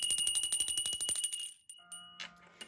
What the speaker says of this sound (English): I'm going to ring the bell to clear the energy.